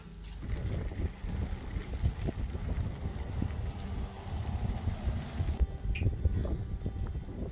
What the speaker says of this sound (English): Literally too windy to do anything outside.